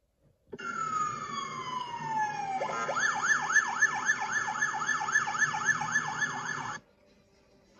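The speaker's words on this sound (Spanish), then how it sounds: "A de ambulancia." An ambulance siren wails alone and loud, a falling tone that switches into a rapid rising-and-falling yelp before cutting off.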